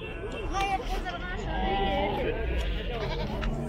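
Lambs bleat at a busy livestock bazaar in Zharkent, wavering cries rising over a babble of nearby voices and market chatter, moderately close and repeated several times.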